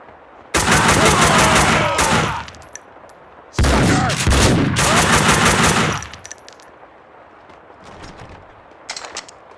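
Bursts of automatic gunfire from the Max Payne 2 video game: two long, loud, dense rattling volleys of a couple of seconds each, then quieter scattered shots and ambient game noise.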